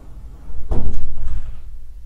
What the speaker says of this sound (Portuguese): Um tiro de canhão na porta.